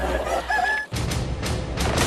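Korean native chickens on a farm in Paju, a rooster crowing briefly then a series of sharp, loud clucks and squawks close by.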